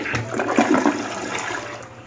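An American-style commode in a Chicago apartment flushes with a loud, close rush of swirling water that holds steady throughout without any talk.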